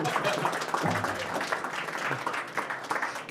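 A crowd at an innovation festival at the Ageas Bowl in Southampton applauds, a continuous bright patter of many hands at steady volume, with a voice faintly audible beneath it.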